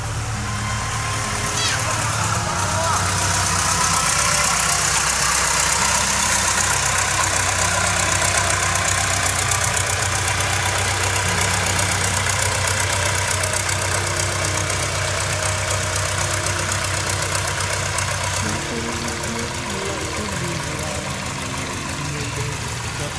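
A motor boat engine chugs steadily as the boat passes along a rural canal in An Giang, Vietnam, a loud, continuous drone with mechanical knocking; someone talks over it.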